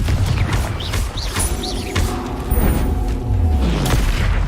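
Confringo fire spell blasts in Hogwarts Legacy, booming explosive bursts layered over combat effects and whooshing tones, loud and close throughout.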